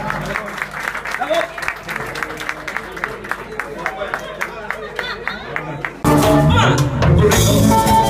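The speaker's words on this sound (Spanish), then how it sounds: "aplauso para él" A crowd applauds a performer with steady, dense clapping for several seconds, then voices rise over it as the noise grows louder and busier.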